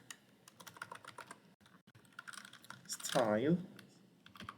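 Code being typed on a computer keyboard comes through as quick, close keystroke clicks in uneven bursts, while a person speaks briefly partway through.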